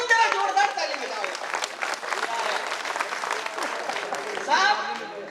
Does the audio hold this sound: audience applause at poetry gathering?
yes